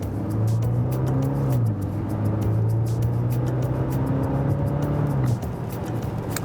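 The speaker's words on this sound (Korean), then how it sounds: "2000cc지만 무시할 수 있는 배기음은 아니에요" A Maserati Levante GT with a 2000cc engine gives a steady, loud exhaust drone, holding a smooth low tone with a brief dip in pitch, close by and without talk.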